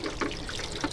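Water poured to rinse a container at a campsite: a brief, close splashing trickle with gurgling bursts, continuous for under a second.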